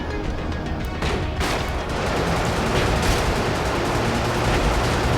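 Sustained gunfire from the video game Brigador pours out in a dense, loud, continuous rattle of rapid shots with heavy booming impacts layered through it, and no talk over it.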